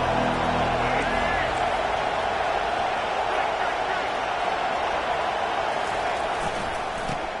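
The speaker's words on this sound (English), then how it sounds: "This crowd bringing the energy and noise early." Stadium crowd at a Notre Dame versus Clemson college football game, a dense continuous roar filling the space, steady and loud throughout.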